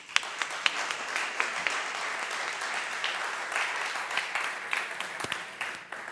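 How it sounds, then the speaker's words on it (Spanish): Audience applause at a restaurant-design talk on lighting at BCC HOST 2016, a steady dense wash of clapping with sharper individual claps scattered through, moderately loud and continuous for about six seconds with no talk. "Un aplauso."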